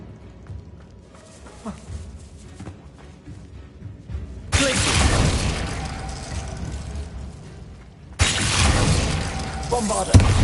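Two sudden, loud Bombarda blasting-spell explosions from Hogwarts Legacy on PS5, each bursting in with a sustained crash and rumble that follows a quieter stretch of game noise.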